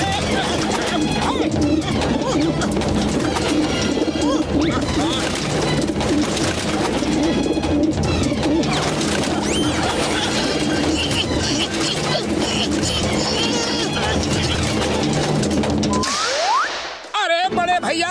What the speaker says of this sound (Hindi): अरे इन कबूतरों ने तो जीना मुश्किल कर दिया है।